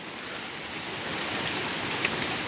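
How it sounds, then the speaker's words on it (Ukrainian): Steady rain falls on a garden plot being prepared for tomato planting, a dense, even patter of drops hitting surfaces nearby with no voices. "От, дощ йде і сяє сонце."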